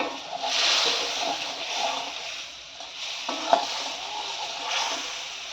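Water hisses into a pan of small native koi fish frying in oil for a dry, spicy curry, giving a steady broad sizzle that swells and fades, with a few faint splashes and clinks.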